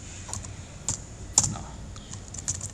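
Close, quiet typing of code on a computer keyboard, a fast irregular patter of key clicks with a few louder taps and no voice.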